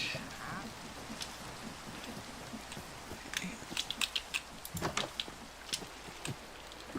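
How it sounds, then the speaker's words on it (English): Rain falling on a rainy night in the Minecraft video game, a steady soft patter with scattered louder drops and taps, fairly quiet and without talk. "Oh, it's raining."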